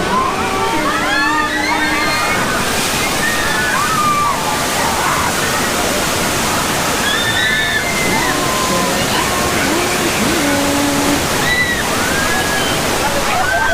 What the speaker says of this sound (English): Let's get out of here before the water main breaks.